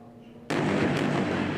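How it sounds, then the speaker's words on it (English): An Israeli airstrike at night in Gaza lands with a sudden, loud, broadband blast that cuts through a low hum and then rolls on as a sustained, roaring rumble. "Israeli airstrikes light up the night sky"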